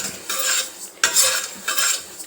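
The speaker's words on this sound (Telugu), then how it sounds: "సిమ్లో పెట్టుకొని ఫ్రై చేసుకోవాలి అవశ గింజలు" Flax seeds frying on a low flame, heard as three bursts of dry rattling and scraping from stirring in the pan, close and fairly loud with short pauses between.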